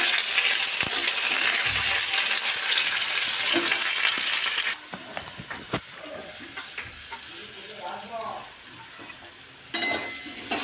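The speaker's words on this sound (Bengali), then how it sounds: "গরম তেলে আলুগুলো খুব সুন্দর করে ভেজে নিতে হবে লাল লাল করে" Loud, dense sizzling of potatoes frying in hot oil fills the first half, then quieter frying with scattered clinks and scraping of a utensil against the pan.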